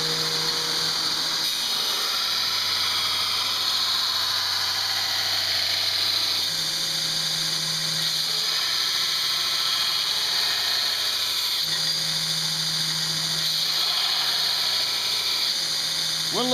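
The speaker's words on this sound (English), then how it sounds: "Went a little far with my hollow grind." A hollow grind being put on a blade, a continuous high whining grinder tone with the pitch shifting as the blade is worked in repeated passes, steady and close with no talking.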